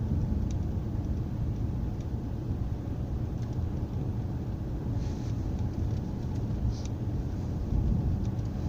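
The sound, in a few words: car slowing down and turning while driving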